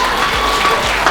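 Wedding guests at a reception in Melbourne, Australia applaud loudly in a dense, continuous wash of clapping for about a second, with no talk.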